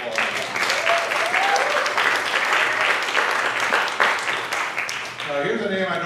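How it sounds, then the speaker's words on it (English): Applause from the audience at the Old Town Playhouse annual meeting, a dense, steady clapping that fills the room for about six seconds before thinning out near the end. "if we could just give a round of applause"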